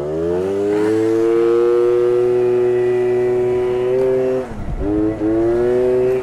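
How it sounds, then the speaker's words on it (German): A car escorting a Yamaha Booster 70cc scooter drives past close by, its engine note holding steady and loud, then dipping sharply as it passes before picking back up. "unser Begleitfahrzeug,"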